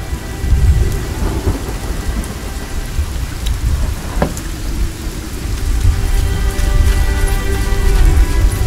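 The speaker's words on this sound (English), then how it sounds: "The storm's completely soaked the ground." A loud thunderstorm in the fantasy video game Spellforce 3, with dense heavy rain hissing steadily throughout and a sharp thunder crack near the middle, the downpour swelling louder toward the end.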